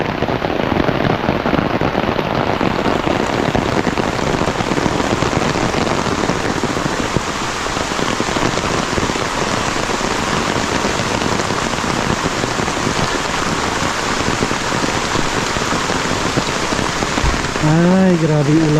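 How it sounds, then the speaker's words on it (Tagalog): Heavy rain pouring down in a continuous loud, dense patter on surfaces, steady for nearly twenty seconds, with a voice briefly at the very end. "Hindi pa natapos itong buhusan, ay ulan na naman."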